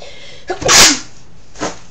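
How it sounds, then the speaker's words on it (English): A single sharp human sneeze, loud and close, with a quick intake before the burst and a softer exhale trailing after, no talk around it. "Whoops, I just sneezed everywhere."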